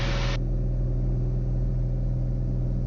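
A Cirrus SR22T Gen 6 engine at full power on the takeoff roll gives a loud, steady, droning roar with a constant low rumble, and a brief hiss drops away at the very start.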